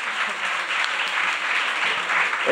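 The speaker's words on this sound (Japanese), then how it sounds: "もう一度大きな拍手をお願いをいたします" Steady audience applause fills a panel discussion hall, dense even clapping from a large crowd that holds at a constant level throughout with no talk over it.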